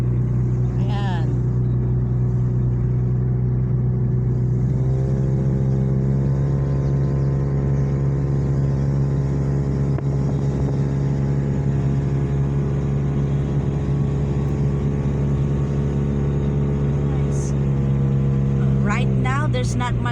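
Steady engine drone and road rumble of a car driving on a quiet highway road with little traffic near construction, continuous throughout, with people talking inside the car over the hum.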